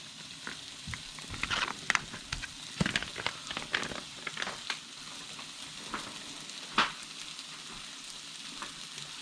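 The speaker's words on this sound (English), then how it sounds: "we're gonna mix this up and saute this on medium heat" Bagged wild salmon sautéing on medium heat in a pan, a steady close sizzle broken by sharp crackling pops and spatula stirs, without talk.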